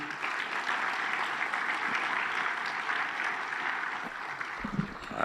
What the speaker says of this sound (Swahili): Bado tuongeze tena makofi mengi.